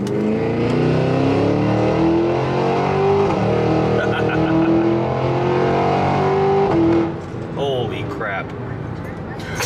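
A Cadillac Escalade-V with a V8 engine drives along, its exhaust burbling and rumbling steadily at close range for nearly ten seconds, with a shift near the end and talking over it.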